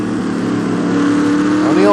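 Race cars in a NASCAR video game at Montreal, some with heavy damage, roar past in a loud steady engine drone with rising revs, while a commentator talks over them.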